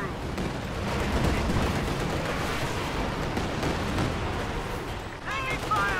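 Katyusha rocket artillery barrage in Company of Heroes 2, a dense, continuous crackle of rapid launches and gunfire filling the scene at close range, with a whistling streak near the end.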